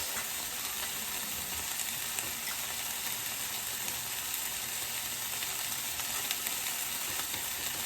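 Potatoes sizzle in brown butter in a pan, a loud, steady, close hiss of frying that fills the whole stretch with no break.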